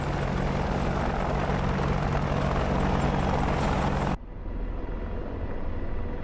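AH-64D Longbow Apache helicopter in the combat flight game DCS, a loud continuous rotor and turbine drone with a steady thumping beat that cuts abruptly to a duller, quieter interior-sounding hum near the end.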